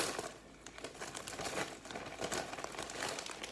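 Plastic gallon bag crinkles and rustles steadily while being handled and filled with liquid, close and fairly loud with no talking.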